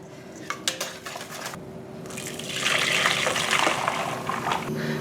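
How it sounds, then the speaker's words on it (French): A cream mixture pours steadily into a saucepan after a few light clinks of metal utensils, the pouring swelling louder midway and continuing to the end. "je vais verser à nouveau ce mélange dans la casserole"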